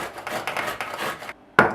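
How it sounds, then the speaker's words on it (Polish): About six centimetres of fresh ginger rasps across a coarse grater in a home kitchen, a run of quick close scraping strokes followed by a brief pause and one sharp final scrape, with no talking. "Wcielamy imbir na tarce o grubych oczkach, tak około 6 cm imbiru."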